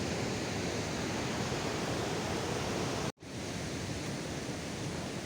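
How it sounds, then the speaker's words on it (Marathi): Continuous broadband roar of rushing water at Sahastrakund waterfall, steady and loud throughout with one abrupt brief dropout near the middle. "हे बघा मित्रांनो धबधबा कसा आहे बघा"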